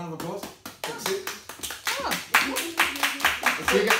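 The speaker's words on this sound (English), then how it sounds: "Give her a round of applause for coming out." Audience clapping in a barber's class or talk: a short, loose round of applause with people talking and calling out over it.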